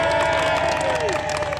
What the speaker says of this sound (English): a crowd of well-wishers has gathered